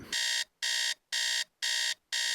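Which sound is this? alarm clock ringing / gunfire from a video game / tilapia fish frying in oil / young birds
alarm clock ringing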